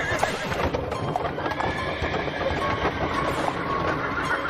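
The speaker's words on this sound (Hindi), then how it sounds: "थोड़ी देर में ही कॉफिन बॉक्सेस से लदी घोड़ा गाड़ियां काली घाटी से रत्नागढ़ की तरफ चल पड़ी।" Horse-drawn carriages loaded with coffin boxes set off along a valley road, with steady hoof clip-clop, wheels rolling and a horse whinnying over a dense, continuous clatter.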